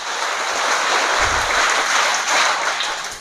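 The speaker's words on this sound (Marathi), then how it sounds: "त्या मुलींसाठी एकदा जोरदार टाळ्या तुम्ही द्याव्यात" A crowd claps loudly and steadily for a group of girls who have just danced, a dense wash of applause filling the whole few seconds with no voices over it.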